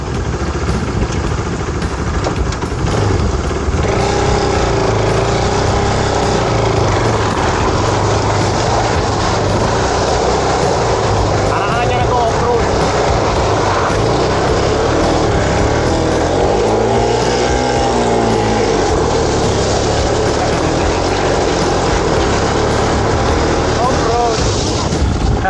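A motorcycle engine labours and revs while crossing soft, uneven beach sand, the bike sinking as it pushes through; a loud, steady engine drone runs throughout with rising and falling pitch, and voices talk over it.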